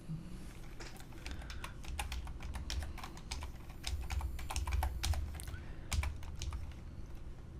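Soft, rapid keystrokes on a computer keyboard as code is entered, a quiet run of irregular clicks over a low background hum, with no talking.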